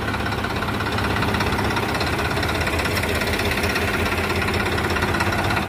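Tractor engine running steadily while hauling a trolley of potatoes into a cold store, a loud continuous mid-low drone with a faint knocking rhythm, no voices.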